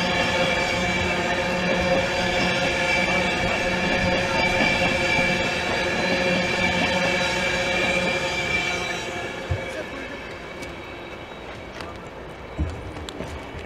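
Class 91 locomotive 91111 hauls a Virgin Trains East Coast service out of Peterborough station, a loud sustained electric drone and rolling wheel noise that fades after about nine seconds, leaving quieter station ambience and a couple of clanks.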